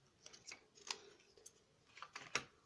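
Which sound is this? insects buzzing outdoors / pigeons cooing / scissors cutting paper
scissors cutting paper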